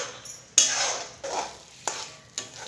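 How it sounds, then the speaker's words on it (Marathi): Dates being stirred and sautéed in a pan while they cook down into a thick mass, giving scraping spoon strokes over a soft sizzle in four separate bursts, close and moderately loud. "इतपत आपल्याला हे खजूर परतून घ्यायचे।"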